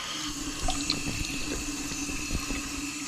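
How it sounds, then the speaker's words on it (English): Warm tap water runs steadily from a faucet into a sink to rinse out a feeding container, a constant splashing flow with no voices. "And then we want to wash this out. And we just do that with warm water."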